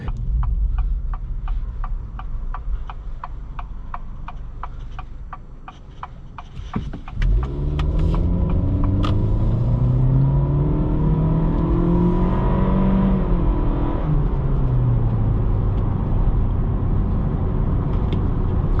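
A 2023 Acura Integra A-Spec with about 200 horsepower idles with a ticking rhythm, then accelerates hard out of a corner, its engine note climbing through gears with shifts and rising again, loud and close from inside the cabin.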